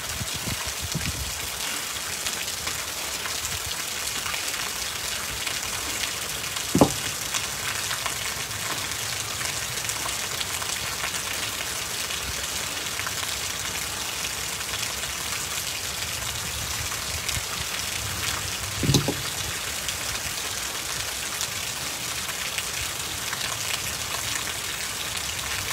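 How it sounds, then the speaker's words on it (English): Steady rain falling on a hot day, a continuous even hiss of drops on surfaces, with a couple of brief knocks breaking through; no one talks. "it's hot and it's raining"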